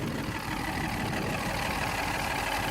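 A Toyota 1UZ V8 engine idles at low RPM after an oil leak repair, giving a steady, low rumbling hum with no voices.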